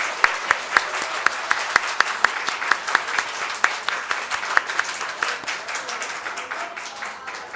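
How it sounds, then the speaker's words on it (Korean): An audience at a ceremony with parents present claps for two middle-school singers: a full round of applause with a few sharp, evenly spaced hand claps standing out near the front, holding steady throughout. "박수로 한번 들어보겠습니다"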